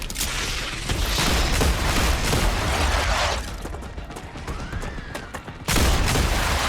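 Dense, rapid gunfire in the video game StarRupture crackles in loud, sustained bursts, stops briefly for a quieter stretch with a faint rising tone, then resumes abruptly near the end.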